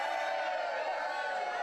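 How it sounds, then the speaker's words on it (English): An evening show's audience at a Sunday Showdown responding with a short burst of crowd noise, a dense, fairly distant wash of cheering and clapping that holds steady for under two seconds. "We need better applause than that."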